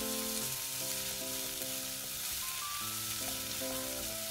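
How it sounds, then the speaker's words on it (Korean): Onions and carrots stir-frying in a pan, a steady close sizzle running the whole time. A soft melodic tone drifts underneath, and no one speaks. "양파를 먼저 볶아주신 다음에 반 정도 익으면 당근을 함께 넣고 볶아주세요."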